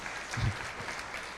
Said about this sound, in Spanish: Bueno, démosle un aplauso.